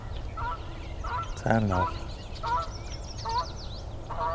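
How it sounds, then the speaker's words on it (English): A Canada goose honks repeatedly in a marsh as it flies off, loud nasal calls in irregular bursts with other birds calling faintly behind and a person speaking briefly. "the Canada goose has decided to leave finally."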